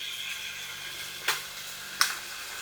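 Spoonfuls of minced garlic in olive oil drop into a pot over a quiet sizzle, making two short clinking scrapes about a second apart.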